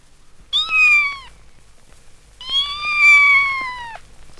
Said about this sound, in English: Said the kitten curled up by the fire.